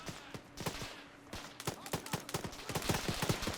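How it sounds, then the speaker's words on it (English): Sustained gunfire in a military video game set in an alternate-history Second Korean War, rapid irregular volleys of sharp shots that keep building in density and loudness throughout. "Still some gunfire."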